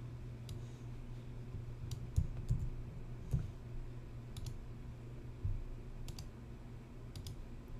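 Scattered keyboard keys click faintly at irregular intervals over a low, steady electrical hum.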